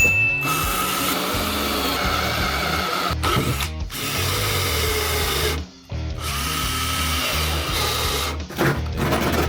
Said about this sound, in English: we're going to drill a bigger hole using our step bit